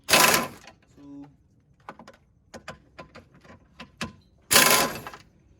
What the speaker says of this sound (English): We'll get all the heavy duty bolts off right now.